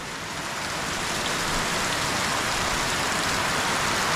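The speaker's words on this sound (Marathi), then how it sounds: "किती पाऊस पडतोय" Heavy monsoon rain at Raireshwar fort pours down steadily in a dense, hissing roar that builds slightly and stays loud throughout, with no voices.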